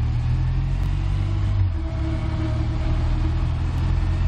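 A courier motorcycle passes on a near-empty city road at night, its engine rumbling low and steady close by, with a brief dip and shift in pitch as it accelerates.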